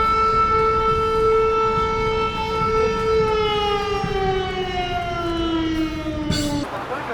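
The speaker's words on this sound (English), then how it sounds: "an air raid siren started to sound nearby, and it was so loud as you can hear." An air raid siren wails loudly nearby on a street in Kyiv, Ukraine, a sustained rich tone that holds steady and then slowly falls in pitch before cutting off.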